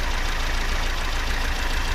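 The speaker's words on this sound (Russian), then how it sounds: "Завели двигатель." Freshly repaired Daewoo Lanos car engine, just started and idling in a workshop, a steady close mechanical running sound with a light rhythmic knock under it.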